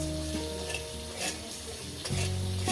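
Whole garam masala, cumin, coriander, fennel and salt frying in a pan, a close crackling sizzle with stirring clinks, a brief metallic tap near the end, no voices.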